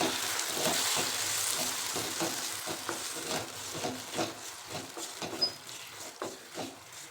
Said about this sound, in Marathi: 2 चमचे पाणी घालायचे.